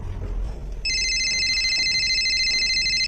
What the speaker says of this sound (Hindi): सही जगह फोन लगाइए। इनके गांव भागलपुर में केलू जी को फोन लगाइए।